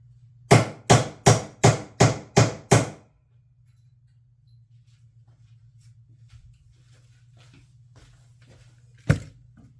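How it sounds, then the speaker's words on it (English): Six evenly spaced, sharp hammer blows on an anvil, close and loud, then a steady low hum and one more lone strike near the end. "I'm going to hit this real good on the anvil."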